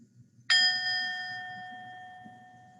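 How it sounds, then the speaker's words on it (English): A single clear chime is struck once after a brief quiet moment, then rings out and slowly fades over a faint low background hum. "we'll exhale the second time you hear the chime"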